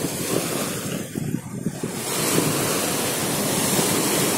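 Strong wind buffets an open microphone at Eretan beach while sea waves roll in, a loud continuous roar of rushing air and surf with no speech.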